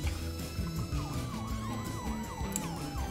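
An ambulance siren in the GTA video game wails continuously with a rising and falling pitch sweep, loud and close, over a steady engine-like rumble and busy background game sound.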